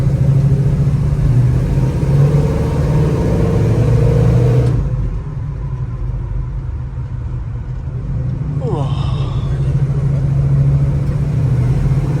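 A 1968 Chevrolet Chevelle SS engine hums and rumbles steadily while driving, heard from inside the car, with the road drone dipping partway through and then rising again as it picks up speed.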